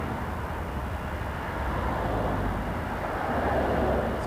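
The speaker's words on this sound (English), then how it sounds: "Egypt Air, 7879 Dreamliner, taxiing as well" An Egypt Air Boeing 787-9 Dreamliner taxis at Toronto Pearson airport, heard as a steady, broad jet-engine roar and rumble at moderate distance, continuous and unchanging, with no talking.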